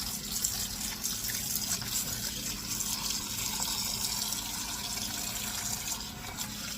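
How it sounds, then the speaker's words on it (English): Tap water runs steadily into a bowl in a kitchen, before salad leaves are rinsed: a continuous close hiss and gush of filling water with no talking. "I'm just filling the bowl I have here with water."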